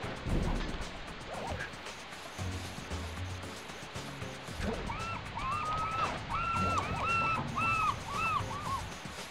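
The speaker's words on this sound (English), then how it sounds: "Aside from those fucking seagulls." Seagulls call in a series of squawking cries during the second half, mixed with other game sounds and background noise, moderately loud.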